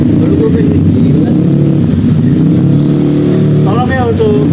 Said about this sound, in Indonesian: Tolong ya untuk orang-orang yang lewat sekitaran Jalan Lodaya yang pakai knalpot chrome gitu